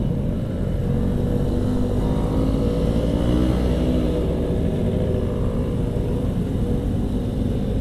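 A motorcycle labouring on a busy holiday-traffic road between Bandung and Garut, its engine a continuous low rumble mixed with surrounding vehicle noise, steady and fairly loud throughout with no talk.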